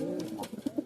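Pigeons cooing in a loft in Naihati, North 24 Parganas: a few soft, low, throaty coos close by, the last two as short separate pulses, with no talking.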